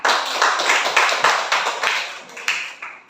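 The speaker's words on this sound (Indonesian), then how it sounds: "kita aplaus untuk kelompok 1 mau bertanya" Classroom applause for a student group, a brisk run of claps from a small crowd with a rapid, fairly steady rhythm that tapers off near the end.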